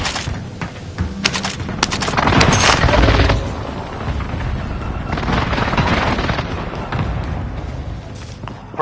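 Explosions and gunfire from a precision airstrike in a shooter video game, loud and dense throughout, with a heavier burst of blasts in the middle and a steady crackle of shots before and after.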